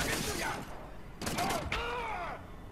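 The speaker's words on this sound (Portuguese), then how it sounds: "Não é um canhão, é uma metralhadora laser. Um rifle de assalto a laser." Laser assault rifle fire in the shooter game Wolfenstein: The New Order, with sharp electronic zaps and rising whines in short bursts over a dense, noisy game soundscape.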